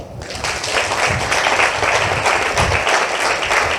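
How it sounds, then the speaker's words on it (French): An audience at an appreciation gathering applauds heartily, rising quickly into a full, even burst of clapping from many people that holds steady to the end. "Est-ce que ça ne s'applaudit pas?"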